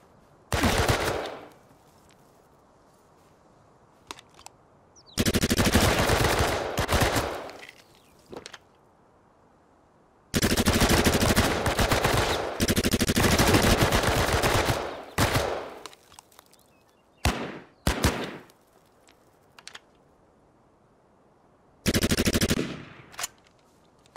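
Gunfire in the video game Last Man Standing: several loud bursts of rapid automatic fire plus scattered single shots, separated by quiet gaps, with no talk over it.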